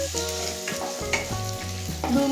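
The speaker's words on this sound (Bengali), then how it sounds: "এবার সব কিছু মিশিয়ে 2 মিনিট ভেজে নেব" Green chillies, ginger and cashews fry together in a pan for an egg curry, a steady close sizzle broken by the clatter and scrape of stirring, with no voices.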